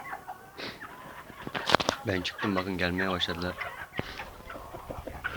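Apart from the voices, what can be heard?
chickens and hens clucking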